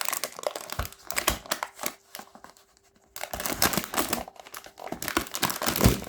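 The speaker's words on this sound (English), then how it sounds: "forgot to take off this, this plastic" Plastic wrap is peeled and crinkled off the box of a 1:43 IXO 1967 Dodge Charger model car, in close, irregular bursts of crackling with a short lull midway.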